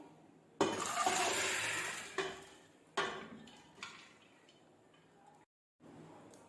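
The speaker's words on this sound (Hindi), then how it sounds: "हम प्रेशर कुकर में चने की दाल डालेंगे।" Dry chana dal pours with a rushing, pattering hiss into a metal pressure cooker, followed by a few shorter scattered pours and clinks, close by.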